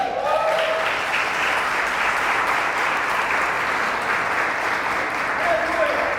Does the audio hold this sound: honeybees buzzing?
no